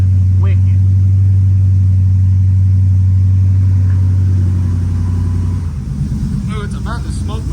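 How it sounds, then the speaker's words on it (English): A supercharged Ford F150 with a stainless steel exhaust holds a loud, strong, steady engine drone. The engine then drops to a rougher, choppier rumble near the end. "It's not as choppy as the Lightning, but man, this exhaust is wicked."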